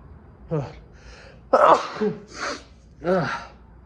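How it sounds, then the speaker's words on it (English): A congested man with a stopped-up nose sneezes in a garage where a 1978 Ford F100 short bed with a 351 engine is being torn down, a sharp breathy burst set among a few short vocal sounds. "I'm about to sneeze, actually."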